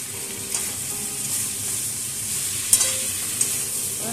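Soaked spice paste and salt frying in a prawn and suran (elephant foot yam) curry pan, giving a steady close sizzle with a few sharp clinks of a spoon against the pan and no talking.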